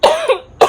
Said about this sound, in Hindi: अब देख लीजिए मुझे खांसी आने लग गई